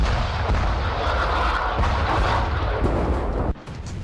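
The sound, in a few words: Hezbollah rockets being fired at Israeli watchtower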